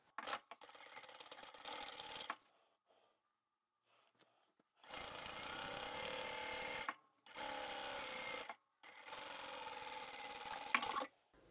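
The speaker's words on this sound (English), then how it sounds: "I'm going to sew the bottom seam with a slightly larger seam allowance" A sewing machine runs close and steady along the bottom edge of a bag's lining and outer fabric. Three long stitching runs are split by short pauses, with a quiet stretch after the first run.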